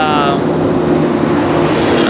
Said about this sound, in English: Sorry, I was waiting for the truck.